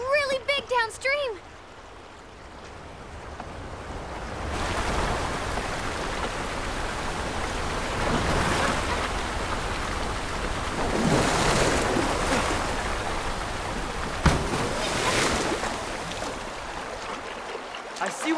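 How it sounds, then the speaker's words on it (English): Loud, steady rush of a fast-moving, very high river roaring continuously, with brief voices at the start and occasional surging swells. "The river's running really high."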